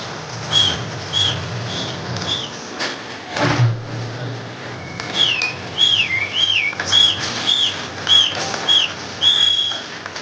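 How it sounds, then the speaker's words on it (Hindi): An audience at a motivational education event whistles enthusiastically, with several shrill, wavering whistles overlapping in the second half after a quieter start of rustling and room noise. "एक बार जोरदार जोश के साथ तो सीटी बजा सकते हो, सीटी बजाए"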